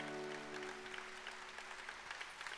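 Audience applause at a talk show event in the Frankfurt exhibition hall, a steady broadband patter of many hands filling the space, with a sustained instrumental tone underneath at the start.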